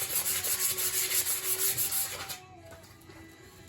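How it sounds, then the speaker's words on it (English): Sandpaper rubbed back and forth on a wooden axe handle, close and fairly loud, in quick repeated strokes that stop abruptly after a couple of seconds, leaving quiet. "we'll just sand this down"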